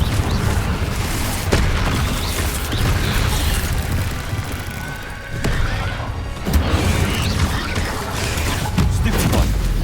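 Spell combat in Hogwarts Legacy on PlayStation 5 includes the Confringo blasting curse, heard as a continuous loud barrage of booms, crashes and impacts layered over game sound effects.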